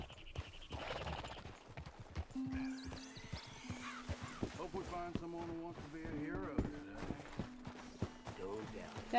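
Horse hooves clip-clop in Red Dead Redemption 2 near a swamp, a steady plodding rhythm mixed with game music and effects while someone talks over it.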